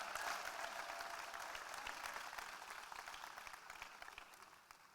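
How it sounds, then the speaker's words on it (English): An audience at a Safaricom corporate event gives a warm round of applause to welcome the company's CEO. The clapping is fairly quiet and distant, a steady crowd patter that slowly tapers off. "Ladies and gentlemen, I'd like you to give a warm round of applause to Michael Joseph, the CEO of Safaricom PLC."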